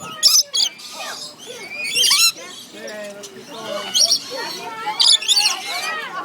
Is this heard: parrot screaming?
yes